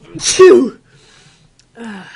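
One loud, close sneeze bursts out during a casual gaming stream, and a short breathy exhale follows after a brief pause.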